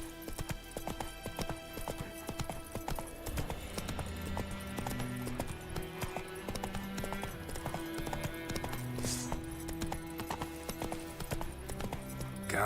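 Horse hooves clip-clop at a steady gallop in the fantasy video game Witcher 3, a continuous rhythmic pounding under game music and ambience, with an occasional short whinny.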